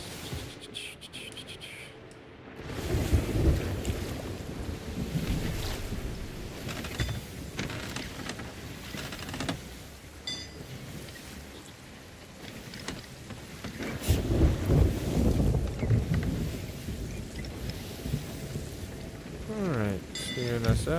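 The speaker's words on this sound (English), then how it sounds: "steering us out of the storm" Storm wind and waves roar around a sailing ship in a video game, a dense, surging wash with heavy swells that rise and fall and a few sharp crashes, with faint speech now and then.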